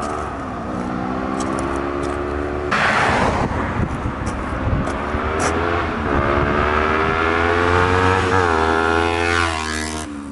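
A Kawasaki Ninja 250 fitted with a stainless full exhaust accelerates past nearby, its loud engine note climbing through the gears under wind noise, with no talk.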